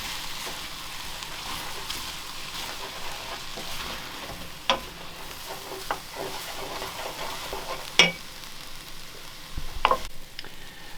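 Food in a pan over low heat is stirred, a soft, faint sizzle underneath with occasional scraping and tapping sounds from the utensil, no talking.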